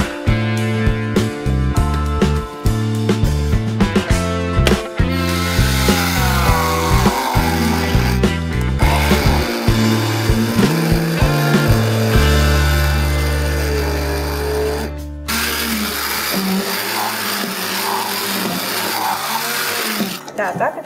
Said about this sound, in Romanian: Acum tot vom mărunți cu ajutorul blenderului.